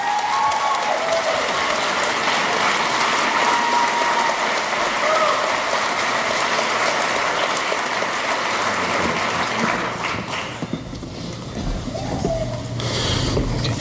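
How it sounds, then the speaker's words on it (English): A large audience at a college graduation ceremony claps loudly and steadily for a long stretch, the applause thinning slightly toward the end before swelling again. "Pause for applause."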